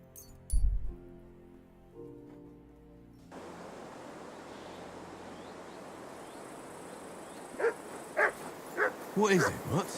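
A dog named Mutt in Kingdom Come: Deliverance II barks several times in quick succession near the end, after a low thud and a steady noisy ambience.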